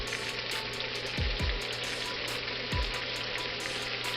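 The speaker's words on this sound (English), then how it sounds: "I'm going to add my onions so they can start sauteing" Liver and onions sizzle steadily as they sauté in a frying pan, a continuous hissing crackle heard up close, with a few low thumps from the pan and no talking.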